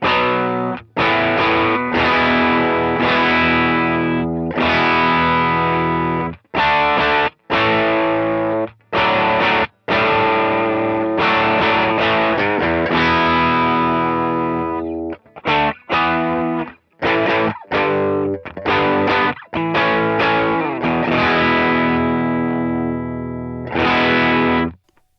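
Overdriven electric guitar with a crunchy gain-pedal tone, strummed chords and short riffs separated by brief stops, played alone and fairly loud.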